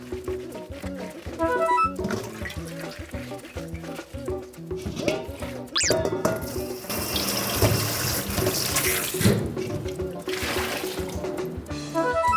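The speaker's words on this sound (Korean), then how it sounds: "한라봉을 이렇게 들고 껍질을 이렇게 잘 씻어주는 거야" Tap water runs steadily into a kitchen sink while hallabong citrus fruit is rinsed and its peel scrubbed clean. Splashing and clatter shift as the fruit moves under the stream, and a voice can be heard faintly now and then.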